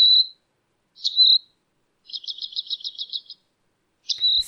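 A robin sings clearly and alone: two drawn-out whistled notes, then a quick even trill of repeated chips, and a final whistle at the end.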